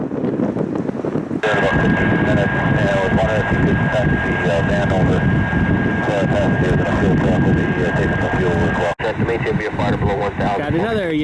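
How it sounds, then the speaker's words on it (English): A United Boeing 767 heavy jet lands at Dulles airport with a loud, steady engine roar and wind rush that holds across the whole stretch. A voice speaks over the engine noise. "Got another United 767 inbound."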